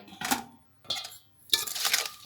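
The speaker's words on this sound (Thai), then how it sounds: "คนให้เข้ากัน" Blanched squid salad with lime juice being stirred in a bowl, three separate bursts of utensil scraping and clinking against the bowl, close and fairly loud with quiet gaps between them.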